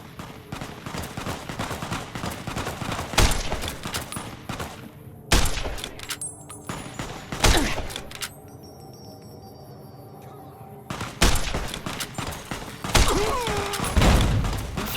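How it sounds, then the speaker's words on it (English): Close-range grenade blast and bursts of gunfire in Fallout New Vegas, with heavy thumping detonations and rapid shots, loud and dense for most of the span, easing briefly into quieter gaps before more firing. "Who throws a grenade right there?"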